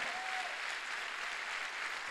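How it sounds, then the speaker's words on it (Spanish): Steady, dense applause from a church congregation during a Sunday sermon, an even wash of clapping filling the whole clip at moderate level with no pauses. "Más fuerte ese aplauso al Señor."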